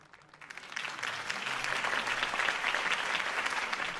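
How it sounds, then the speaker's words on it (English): A crowd applauds after a mayoral campaign speech in a city setting, the clapping swelling from quiet to a full, sustained ovation that stays steady and moderately distant. "If only Mr. Wayne, my campaign's largest backer, could have heard that applause"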